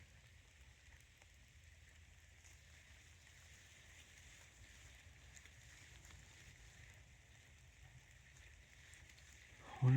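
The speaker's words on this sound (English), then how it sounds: "Listening to the rain hit the leaves on the trees and branches." Rain patters softly on leaves and branches in a wet Canadian forest, a quiet, even, steady hiss throughout, with a brief louder thump right at the end.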